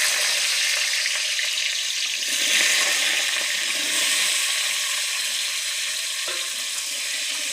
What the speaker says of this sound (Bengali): এখন আমরা আলুটাকে ভেজে নেব।